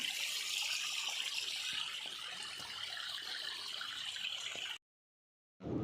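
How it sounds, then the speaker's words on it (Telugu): A small waterfall runs down a hillside beside a ghat road, giving a steady, hissing rush of water. It cuts to silence near the end, then returns briefly. "చిన్నపాటి జలపాతం అనమాట ఇది"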